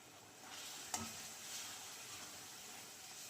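Cabbage water is poured into Manchurian sauce in a pan, producing a soft hissing simmer with light stirring and a single brief clink of a utensil, faint and close.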